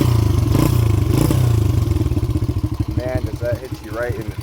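A 1995 Honda XR80 dirt bike engine runs close by with a steady, loud putter and rapid pulsing beat, and someone speaks briefly over it toward the end.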